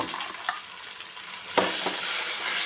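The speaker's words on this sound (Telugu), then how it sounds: "చూడండి మసాలా అంతా వేసేసి మంచిగా కలిపేసుకోవాలండి" Masala paste stirred into eggplant curry frying in a pan, a constant crackling sizzle with scraping spoon strokes and one louder stir partway through, no voices over it.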